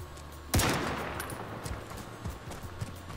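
Gunfire in a heavy action video game played on a Gigabyte G5 gaming laptop: one loud close shot followed by a rapid scatter of fainter rattling shots and impacts fading into background game noise.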